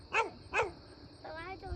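A dog barking at a cat lets out two sharp barks in quick succession, followed by a higher whining yelp, fairly close but not loud.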